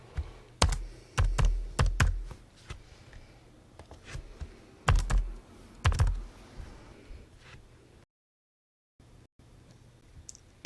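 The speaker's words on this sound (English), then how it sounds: "We can type in the decedent information" Typing on a computer keyboard while entering form data, heard as irregular clusters of sharp, close key clicks in several bursts, then a short silence and a few faint taps.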